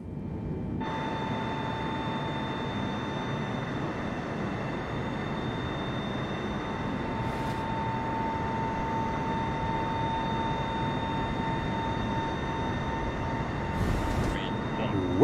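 Steady engine roar of a small aircraft making a short field takeoff in Microsoft Flight Simulator (2020), constant and droning throughout with a faint tonal whine, rising slightly toward the end.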